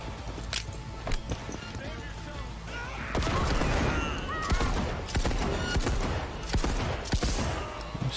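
Shotgun gunfire in the video game Cyberpunk 2077, several sharp booming blasts spaced irregularly over a continuous backdrop of combat noise and rumble, loud and close.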